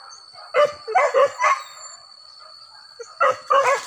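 A dog barks in short, sharp bursts, several in quick succession, then a pause, then another rapid cluster. It is close and loud over quiet background, likely outdoors during a wild boar hunt.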